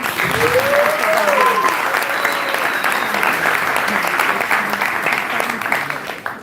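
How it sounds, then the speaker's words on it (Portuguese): A crowd claps steadily and loudly for several seconds, the applause holding up throughout before tapering slightly at the end. "Vamos a palmas para mim."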